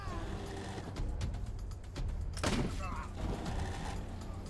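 Gunfire in a hostile encounter in the video game Wasteland 3, with sharp bursts of shots and mechanical clatter over steady game noise, loudest near the middle.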